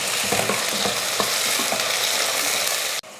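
Onions, green chillies, cardamom, cinnamon, cloves and bay leaves frying in hot oil in a pressure cooker for mutton biryani, a steady close sizzle with scraping stirs, then a sudden drop at the end.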